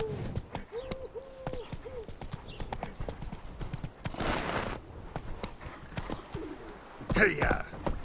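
Hooves clip-clop rhythmically as a horse gallops in the video game The Witcher: Wild Hunt, with bird calls and cooing in the background and a short burst of louder noise near the end.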